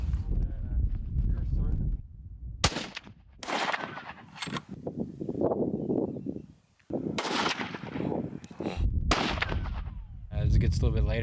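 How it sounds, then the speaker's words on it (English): Rifle gunshots during shooting practice on a Texas ranch: several sharp, loud outdoor cracks, separated by stretches of wind noise and speech. "Final shooting practice on the ranch."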